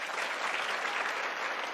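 Students in a classroom clap for themselves, a short burst of dense, even applause from a small group, fairly quiet and steady throughout.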